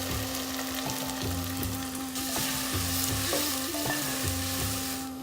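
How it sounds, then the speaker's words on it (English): Onions with bay leaf and garlic frying in a pan for a tadka dal, a steady close sizzle with bursts of stirring and scraping, no voices. "So the onions have been cooking for a few minutes."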